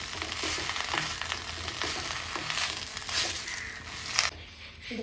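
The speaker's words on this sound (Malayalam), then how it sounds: "നമുക്ക് എണ്ണയ്ക്കകത്ത് വറുത്ത് കോരിയെടുക്കാം." Curry leaves deep frying in oil for a Kerala-style curry leaf pickle give a soft, steady sizzle and crackle at low volume, with a few louder pops near the end.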